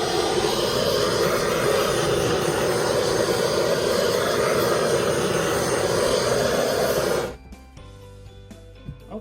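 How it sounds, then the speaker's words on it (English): Handheld torch flame roaring steadily over a wet five-color acrylic pour painting, a loud continuous hissing rush that lasts several seconds, then cuts off abruptly, leaving quiet room sounds with small clicks. "I am going to give it a quick torch."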